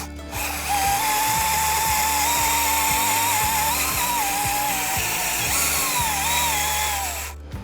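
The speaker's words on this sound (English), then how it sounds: "what we're going to use it for is to drill a long, narrow hole, a deep hole" A Power Planter auger bores a long, narrow hole into soil for watering tree roots. The power drill whines steadily up close, with a rhythmic ratcheting chatter throughout.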